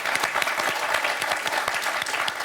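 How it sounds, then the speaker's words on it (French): A studio audience on a French television quiz show applauds a contestant, steady dense clapping from many hands throughout, loud and close with no talking over it. "Faut l'applaudir"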